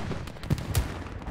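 Gunfire from the World War II shooter Hell Let Loose, two distinct booming shots about a quarter second apart over a steady background of distant battle noise.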